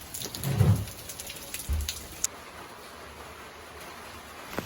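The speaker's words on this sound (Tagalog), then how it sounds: "Maulan po ngayon dito sa amin." Steady rain falling on a rainy morning at home, a continuous hiss of drops with occasional louder patters and low rumbles in the first two seconds, no voices.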